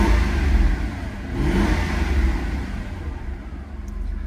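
A Lexus engine with about a million miles on it runs close by, its hum rising and falling with a couple of moderate revs over a steady idle. No one talks.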